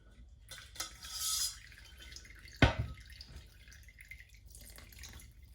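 Milk and soaking liquor for hot cross buns are strained into a dry mix, heard as faint drips and trickles with one sharp splash or clink partway through, quiet and close.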